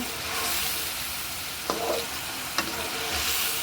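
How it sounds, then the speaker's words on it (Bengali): Hilsa fish sautéing in a hot pan, a steady broadband sizzle with two brief scraping clinks as the pieces are turned over; close and alone, no voices. "মাছটা একটু বেশ কষিয়ে না নিলে একটু কাঁচা কাঁচা গন্ধ বেরোবে, সেজন্য আর একটু কষাই নিব মাছটা। ওলট পালট করে নিচ্ছি।"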